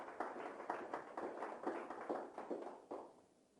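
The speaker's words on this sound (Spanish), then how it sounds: "Denle un buen aplauso al Señor." A church congregation applauding, a brief run of fairly faint, uneven claps that thin out and fade toward the end.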